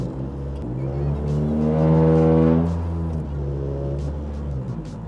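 A Honda Civic's engine idles and revs briefly as the car is backed out, a steady low rumble swelling in the middle then settling, close by with no talking.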